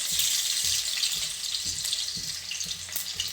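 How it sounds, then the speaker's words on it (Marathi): Finely chopped garlic sautés in hot oil until reddish, a close, constant loud hiss with faint scraping and stirring underneath. "आता लालसर होईपर्यंत आपल्याला लसूण परतून घ्यायचं आहे"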